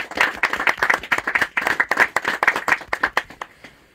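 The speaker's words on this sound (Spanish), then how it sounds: "Señores, un fuerte voto de aplausos." Audience applause closing a Quechua coca leaf offering ceremony to the Pachamama, steady clapping from a small crowd that continues throughout, then thins out near the end.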